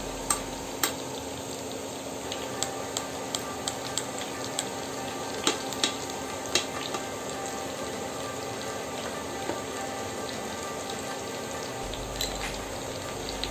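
Onions and ginger-garlic paste frying in oil for kochur loti with shrimp make a constant close sizzle, broken by occasional light taps and clicks from stirring, with no talking.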